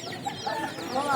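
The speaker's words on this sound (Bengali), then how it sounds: "সাদাটা কক মুরগি আর লালটা লেয়ার মুরগি" Young cocks and layer hens at a village market give soft, short clucks and murmurs close by against a background of market bustle.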